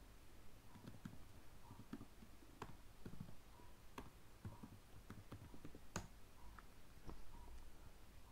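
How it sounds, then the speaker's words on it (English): Quiet typing on a computer keyboard, a scatter of soft irregular key clicks with a few sharper taps, close but faint over low room hiss. "Now I'll type help modules."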